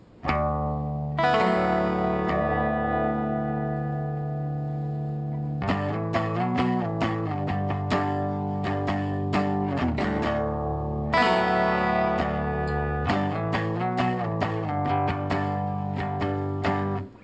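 Acoustic-electric guitar plays a chord figure, striking a low D then strumming upward, repeated in sustained ringing phrases with brief pauses between, solo and up close.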